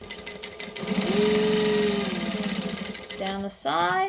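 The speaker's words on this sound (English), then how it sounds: "So, we're going to stitch." A sewing machine stitches a pocket seam in a steady, rapid mechanical whir that swells and then stops, while someone talks over it.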